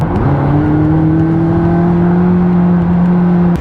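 A McLaren 570S sports car engine, 562 horsepower, revs steadily at high pitch, a loud sustained drone with a strong tonal hum that holds throughout, no voices.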